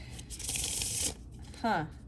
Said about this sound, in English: I want to give it one more good shuffle